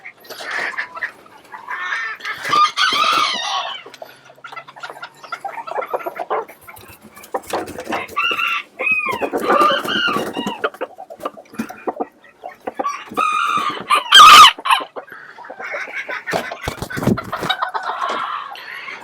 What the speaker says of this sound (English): He is a really nice, calm rooster, similar to the hen.